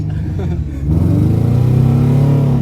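A car engine revs up in neutral, rising from a low idle into a loud, sustained close-up roar whose pitch climbs steadily.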